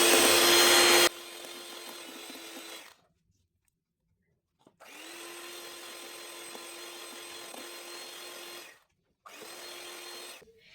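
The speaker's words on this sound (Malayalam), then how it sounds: "ഒരുമിച്ച് ചേർത്ത് ബ്ലെൻഡ് ചെയ്യുന്നതിനെക്കാട്ടിലും കുറേശ്ശായിട്ട് ചേർത്ത് ബ്ലെൻഡ് ചെയ്യുന്നതാണ് നല്ലത്." An electric mixer whirs steadily while beating eggs and sugar for a cake, running in several long bursts separated by short pauses, close and moderately loud with no talk.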